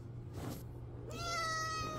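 A cat lets out a drawn-out, rising meow up close, following a brief softer sound in an otherwise quiet room.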